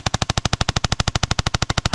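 A fully automatic paintball gun fires a fast, even burst of about twenty sharp pops, close and loud, with no talk over it.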